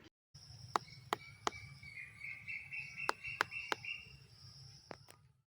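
Several sharp, hollow knocks from tapping a jackfruit to test ripeness sound at irregular intervals over a low, steady background murmur, each strike short and distinct.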